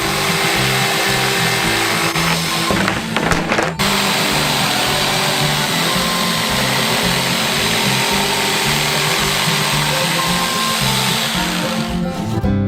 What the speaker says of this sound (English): Now we just need to cut it out with an electric jigsaw.